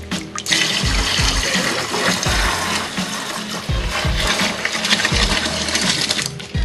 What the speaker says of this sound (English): In with the lovely wort I made earlier.